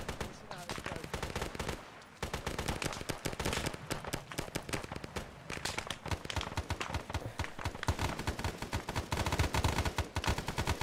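Dense rapid gunfire and machine gun bursts rattle almost continuously in an Arma 3 S.O.G. Prairie Fire firefight, loud and close, with a brief lull near the start before the shooting resumes.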